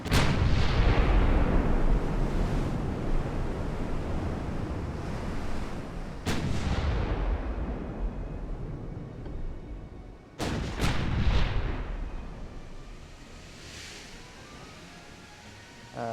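Heavy naval gunfire in the warship game Ultimate Admiral: Dreadnoughts, with three deep booming salvos spaced several seconds apart, each rolling into a long rumbling decay, loud and close with no voices.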